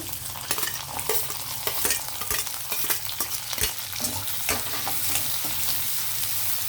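Onions sizzle steadily in hot oil with cumin seeds, with a spoon scraping and stirring the pan in irregular strokes close by.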